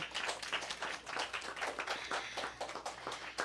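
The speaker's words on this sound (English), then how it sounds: "So one more round of applause for Jeremiah." An audience at a spring choir program claps for a presenter, a quieter scattering of individual hand claps with a loose, uneven rhythm heard from a short distance, without talk over it.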